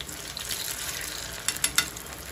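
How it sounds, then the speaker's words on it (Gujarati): Potato-poha tikki frying in hot oil in a pan over medium gas, a soft steady sizzle with a few quick scraping clicks as a spoon turns the patties near the end, close and fairly quiet. "હવે જે આપણે આ ટિક્કી બનાવી છે એ તેલમાં તળી લઈશું."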